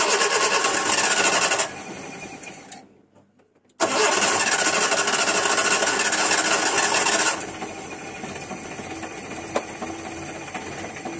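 A Nissan C22 engine starts for the first time after a top overhaul: loud cranking, a brief drop to near silence, then the engine catches and settles into a steady, close idle.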